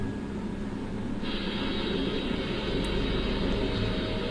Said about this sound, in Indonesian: Mungkin mesin-mesin di dapur. Oh iya. Ya blender sih.